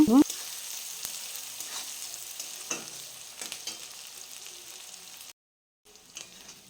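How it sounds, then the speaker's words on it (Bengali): Onions sizzle in oil for a cabbage and fish head dish, a soft steady hiss with light crackling and occasional stirring, which drops out briefly before resuming quietly. "পেঁয়াজটা দিয়ে একটু ভালো করে লাল লাল করে ভেজে নেব"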